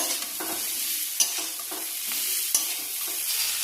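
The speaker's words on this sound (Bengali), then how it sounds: "দেখো একটু কষিয়ে নিয়ে তারপর জল দিয়ে দেব" Small puti fish are sautéed with spices in a pan, giving a close, continuous sizzle and hiss broken by rhythmic spatula scrapes and two sharper clinks. No one speaks.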